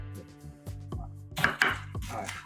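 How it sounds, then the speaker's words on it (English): An onion being chopped into quarters with a knife on a board while cooking a British Easter roast: a few distinct thuds and cuts, then two sharper, louder chops near the end, close by with low background hum. "Alice, how are we chopping this? We're just quarters."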